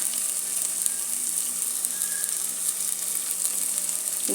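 Spiced aval uppumavu with turmeric and tomato fries in a pan, giving a steady close sizzle throughout as it is stirred, with a small scrape near the end and no talking.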